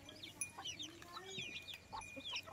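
Farm chickens out grazing on green grass, soft repeated clucks and chirpy calls overlapping at a moderate distance, quiet, with no talking.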